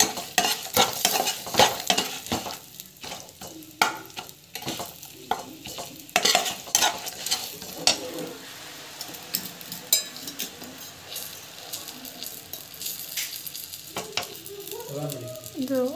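Ground masala for puliyodharai sizzles in a pan while a utensil stirs and scrapes it, with occasional clinks against the metal. The clatter is busier at first, then settles into a softer, steady fry.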